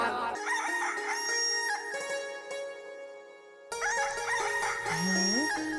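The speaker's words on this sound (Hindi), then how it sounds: "दिन निकल आया क्या? मुर्गा बोल रहा है।" A rooster crows in long, drawn-out calls, loud and close, with a second crow starting after a brief dip and other fowl sounds underneath.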